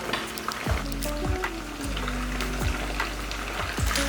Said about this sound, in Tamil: இப்போ இதே கரண்டியில் ஒரு கரண்டி அளவுக்கு நெய் ஊற்றிக்கலாம்.